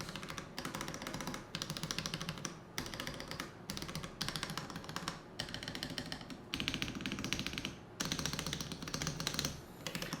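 Continuous fast keystrokes from a Pressplay Apollo 61 Lite mechanical keyboard with tactile switches rattle along in dense bursts separated by short gaps, soft but near, with nobody speaking.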